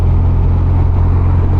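A motorbike engine drones steadily at close range with a low, constant hum, holding an even pitch throughout.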